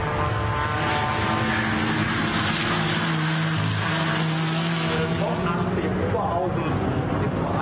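Ford Mustang GT4 race car engine driving down the pit lane during qualifying at the Nürburgring, a loud steady drone with shifting harmonic tones that holds throughout under commentary.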